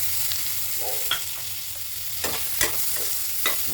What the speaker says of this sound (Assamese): এইখিনি মই মিডিয়াম চাইজত কাটি লৈ এনেধৰণে এতিয়া ফ্ৰাই কৰি লৈছোঁ